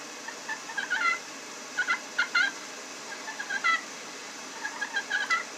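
A turkey call imitates a hen's purr, soft rolling trills repeated in short clusters, faint and close with no talk.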